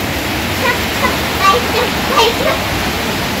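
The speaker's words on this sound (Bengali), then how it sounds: "হ্যাঁ খুব ঝড় হচ্ছে" A heavy rain storm roars as a loud, dense, steady wash of falling water close by, with faint voices in the background.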